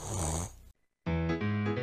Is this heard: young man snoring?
yes